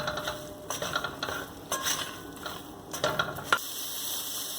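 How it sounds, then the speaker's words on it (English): Soy chunks with curry powder, garlic and onion powder stirred in a pan, intermittent soft scrapes and light sizzling in a quiet, close setting, no talking. "And mix everything in."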